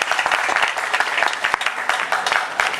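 Outdoor festival crowd at Seattle Hempfest clapping, a brisk, busy patter of many hands with sharp individual claps standing out, loud and close, with faint voices mixed in.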